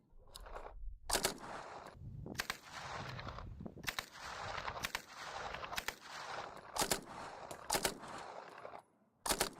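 A WW2 submachine gun with a folding stock firing at an outdoor target: sharp, loud shots in single reports and short bursts, irregularly spaced, with echoing tails between them.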